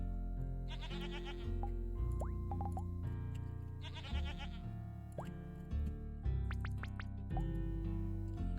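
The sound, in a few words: goat bleating in the video game Hexagourds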